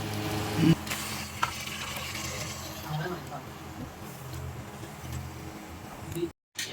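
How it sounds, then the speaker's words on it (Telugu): Chicken sizzling in a pan while being stirred, a steady crackling fry with scraping, clattering stirs, close up, as a person talks over it. "సో ఇప్పుడు మనం చికెన్ వేసాం కాబట్టి ఇప్పుడు కలుపుకోవాలి, డీప్గా కలుపుకోవాలి దీన్ని"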